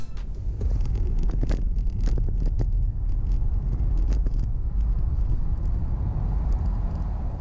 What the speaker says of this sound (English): let's see how this Tesla goes and do the 30 to 70 sprint.